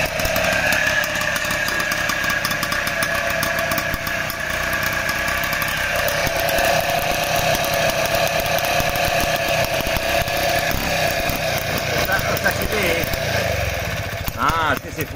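A Vespa Special scooter fitted with a PK engine and a 75 DR kit runs steadily, its loud buzzing drone continuing throughout with a brief rise near the end, while people talk nearby.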